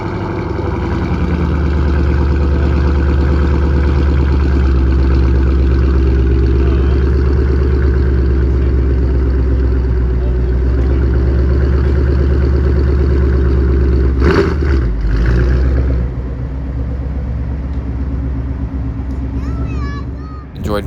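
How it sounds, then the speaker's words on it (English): A car runs on a dyno during a Mustang event, its engine roaring loud and steady at high revs with a heavy low drone, then dropping off sharply before settling toward idle. "they had a couple more cars that were going to go on the dyno just for fun"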